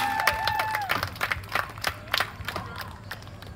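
A crowd at a springboard log-chopping competition claps and cheers in scattered bursts alongside sharp axe strikes, with a whistle-like tone at the start and a voice over a loudspeaker.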